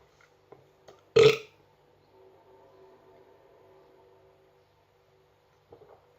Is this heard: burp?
yes